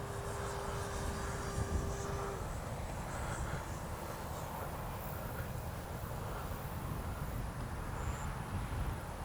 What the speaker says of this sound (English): Love that KM model afterburner inside there.